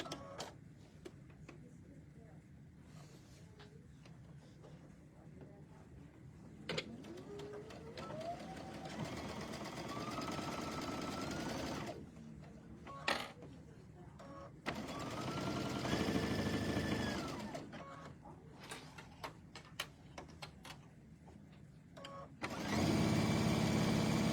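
A sewing machine stitches a towel bag in several bursts, its motor whirring up in pitch as it speeds, with pauses and handling noise between runs. The sound is close, and a loud clatter comes at the end.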